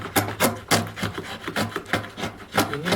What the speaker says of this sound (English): I just use the chisel to pare this down to the final depth